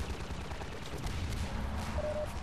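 Rapid gunfire from the shooter game Half-Life 2, a steady dense burst of shots and rumbling combat noise running throughout, loud and continuous with no talking.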